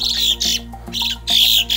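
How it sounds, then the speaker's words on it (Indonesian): Birds chirp repeatedly in a rural hillside setting at Bukit Chabang, Perlis, Malaysia, with bright, short calls in quick bursts over a steady low background hum. "Burung ada bang."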